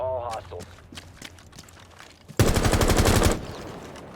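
Rapid automatic gunfire from a Rainbow Six Siege match erupts in a loud, dense burst lasting about a second, after scattered quieter game sounds and faint talk.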